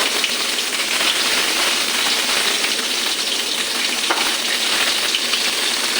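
Green chili paste frying in oil in a pan over low gas, a loud, dense, continuous crackling sizzle like heavy rain, steady throughout and close.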